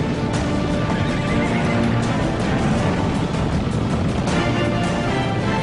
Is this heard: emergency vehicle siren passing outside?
no